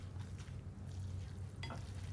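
Drained instant Shin Ramen noodles tossed with homemade chili oil, giving a soft wet stirring and squelching close by, with a brief sharper clatter near the end and steady low background hum, no voices.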